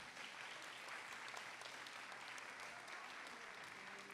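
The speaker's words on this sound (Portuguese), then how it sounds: "Merece até uma salva de palmas, né?" Congregation applauding in a church during its 127th anniversary celebration; steady, dense clapping fills the room evenly throughout, moderately distant and without pause.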